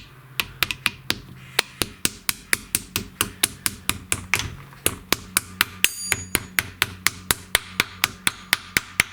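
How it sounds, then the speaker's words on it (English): A small brass hammer taps a tight-fitting part onto a John Deere lawn tractor transmission: about thirty sharp, close metallic strikes in a steady quick rhythm, with a brief pause midway. "just grab a small hammer or a brass hammer because it will go in fairly tight"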